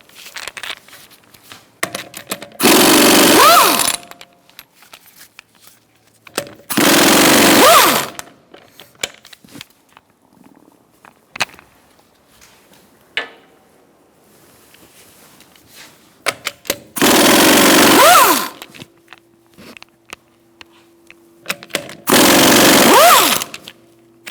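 A power wrench fitted with a 19mm socket spins off the rear wheel nuts of a 2012–2018 Ford Focus. Four loud, rattling bursts of a second or two each are separated by quiet stretches holding small metallic clinks.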